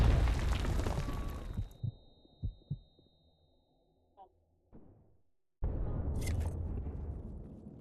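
A grenade blast in the shooter BlackShot: after a stretch of quiet thuds, a loud, sudden explosion erupts near the end and lingers, with louder battle noise at the start.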